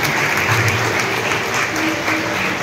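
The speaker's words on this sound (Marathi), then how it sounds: "जोरदार टाळ्या वाजवायच्या आहेत अच्युत पालव सरांसाठी." Loud, dense applause from a ceremony audience for Achyut Palav at a state-level calligraphy gathering, sustained and steady throughout with no break.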